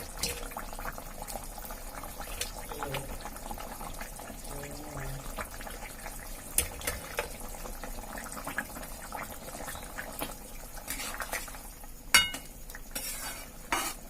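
Potato broth boils in a pot as taro-leaf fritters go in, keeping up a continuous bubbling hiss. Scattered stirring scrapes and a brief clatter near the end sit over it, with no clear talk.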